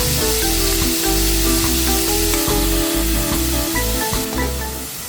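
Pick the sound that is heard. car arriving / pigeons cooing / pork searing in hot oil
pork searing in hot oil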